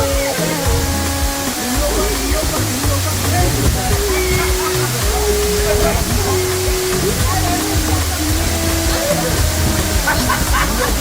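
Mt Carmel waterfall in Grenada roars in a loud, constant rush of falling and splashing water close by, with a voice talking over it.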